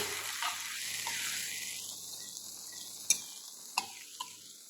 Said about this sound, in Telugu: కొంచెం సేపు అలా పచ్చివాసన పోయేంత వరకు ఇట్లా మగ్గించుకున్నాం సో ఆయిల్ బబుల్స్ వస్తున్నాయి చూసారా